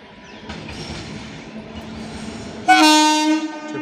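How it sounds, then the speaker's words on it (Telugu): A train rumbles steadily past at a public railway level crossing, then a loud, sustained horn blast sounds near the end, close and dominant, with no speech. "మళ్ళీ హార్న్ ఇవ్వచ్చు."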